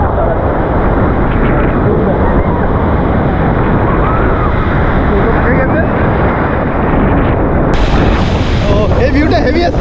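Heavy sea surf surging at a beach near Puri, a loud continuous roar of crashing water buffeted by wind against the microphone.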